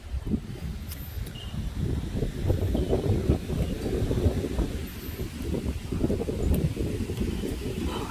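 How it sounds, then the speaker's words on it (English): Steady wind rushes and buffets close to the microphone with low rumbling gusts, continuous throughout and no voices. "You can see it's a windy day."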